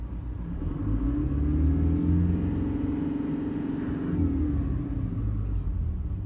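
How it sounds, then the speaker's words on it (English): A Toyota 1GD diesel engine with a DPF is revved briefly, a deep steady rumble swelling in pitch and then settling back toward idle, heard up close and continuous. "I'm just going to give it a little rev up and see what the delta pressure does."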